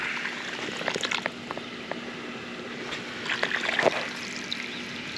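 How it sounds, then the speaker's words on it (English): Water runs and trickles into a dug hole beside a sump pump pipe, a bubbly, gurgling flow with scattered splashes and drips, fairly close and steady. "filling up my hole of water"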